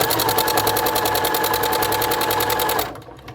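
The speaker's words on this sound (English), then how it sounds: "I'm just going to stitch right down that line." A sewing machine stitches fabric with a fast, even mechanical chatter, loud and close, running steadily before stopping abruptly near the end.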